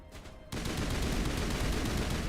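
Sustained assault rifle fire in Mass Effect, a dense, loud, continuous rattle that bursts in abruptly after a brief quieter moment and keeps hammering without pause.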